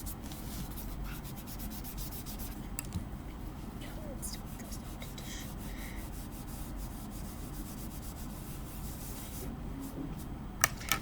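A soft tissue is rubbed across paper to blend a pencil drawing, giving a steady, faint, close scratchy swishing that continues throughout.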